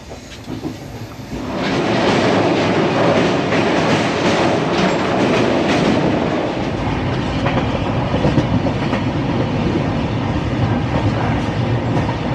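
An Indian railway train runs along the tracks in steady clickety-clack, loud and close from inside the carriage, with a constant rumble and no talk.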